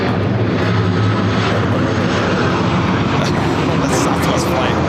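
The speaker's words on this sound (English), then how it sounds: "The Southwest flight crossing my shot." A Southwest Airlines passenger jet passes at LAX, its engines a loud, steady broadband roar that fills the whole stretch without letting up, with a faint voice underneath.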